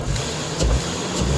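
A Jeep XJ engine runs steadily after an exhaust manifold replacement, with a constant low rumble and slight swells in level over a short stretch, close and alone.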